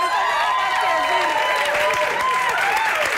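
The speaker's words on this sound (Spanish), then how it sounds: "un aplauso para Colmy." Studio audience applause at a Spanish-language talk show, loud and steady throughout, with cheering voices mixed into the dense clapping.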